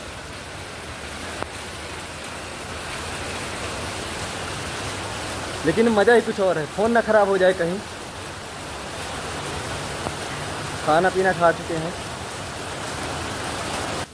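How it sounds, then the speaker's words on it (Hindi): Heavy monsoon rain in Mumbai pours in a steady, dense hiss throughout, while someone speaks briefly over it twice. "इतना बारिश हो रहा है बाप रे बाप"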